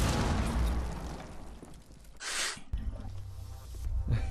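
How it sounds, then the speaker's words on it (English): Explosions go off in a shooter video game, a loud rumbling blast with a bright burst midway and another near the end over a steady low background. "Explosions!"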